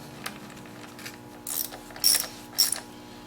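A ratchet tightens the bolts on a Honda Civic timing belt cover, heard as a few short bursts of clicking spaced about half a second apart, close and fairly quiet with no talking.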